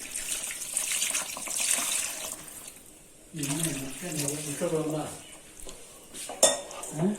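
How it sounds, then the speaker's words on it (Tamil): Water is poured and splashes into a metal pan of masala for fried-egg gravy, with clinking utensils and a faucet-like rush, while a voice talks briefly in the middle. "தேவையான அளவு தண்ணி ஊற்றிக்கலாம்."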